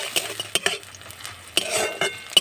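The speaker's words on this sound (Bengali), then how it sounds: "পেঁয়াজটাকে আমি ভেজে নেব।" Chopped onions fry in a pan for a cabbage dish, with a soft sizzle under repeated close, sharp clicks and scrapes of a utensil stirring against the pan.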